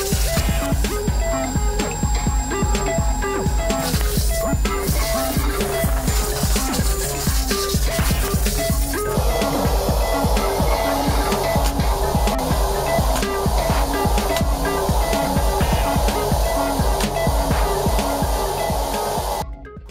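A Numatic Henry vacuum cleaner with a crevice tool runs at a steady, loud whine of suction, its pitch and tone shifting partway through as the airflow changes, close by.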